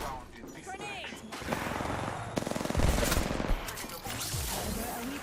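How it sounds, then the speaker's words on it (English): Automatic gunfire in Apex Legends, rapid bursts of shots cracking close and loud amid game effects and a character's voice lines, the firing thickest through the middle of the stretch. "Shooting at me."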